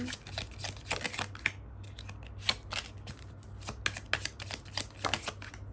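Tarot cards handled for a reading: rapid papery shuffling, flicking and snapping of cards in uneven clusters, close and fairly quiet, with no one talking.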